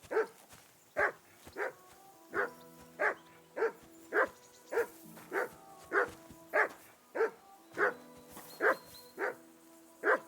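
A dog named Mutt barks over and over in Kingdom Come: Deliverance II, about seventeen sharp barks in a steady, insistent rhythm. It sounds close and clear over a quiet background.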